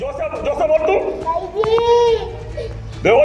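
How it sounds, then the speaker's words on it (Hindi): A small child crying while locked inside a school, with rising and falling wailing cries in short bursts, mixed with other voices and background noise. "बच्चा रो रहा है।"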